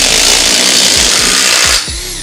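Handheld power drill boring a valve hole in a bicycle rim, a loud steady whine with grinding under it that stops abruptly near the end, leaving a brief fading spin-down.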